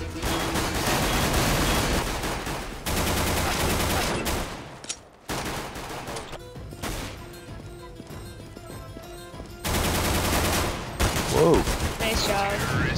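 Rapid bursts of gunfire in a video game shooter, loud and dense, continuing in sustained volleys with brief gaps and a quieter stretch in the middle, with voices faintly underneath.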